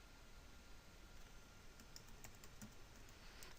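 Someone types a project template name on a computer keyboard, producing a short run of quiet, scattered key clicks over a steady background hiss.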